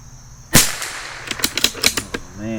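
A Bergara B14R .22LR rifle fires a single sharp, loud crack, followed by a scatter of quieter clicks and knocks from bolt handling, with a brief faint tone at the end.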